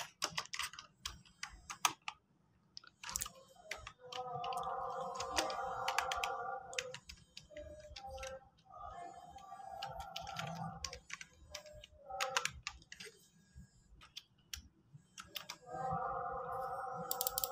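Typing on a computer keyboard, bursts of quick close key clicks with short pauses between them, a faint low hum underneath and no speech.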